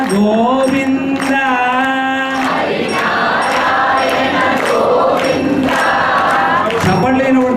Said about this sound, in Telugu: చప్పట్లు వినబడుతున్నాయి కానీ నామం వినబడట్లేదు